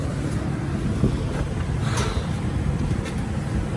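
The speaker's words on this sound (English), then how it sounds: "Shut the fan off" A shop fan runs steadily in a truck repair shop, giving a loud, continuous broadband whoosh with no break and no talk over it.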